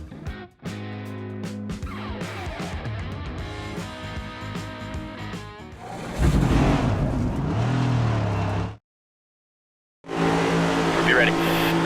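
Race car engines roar in NASCAR 25 gameplay at Worldwide Technology Raceway, loud layered engine tones rising and falling, with a brief silent gap before the roar resumes. A commentator's voice runs over the noise.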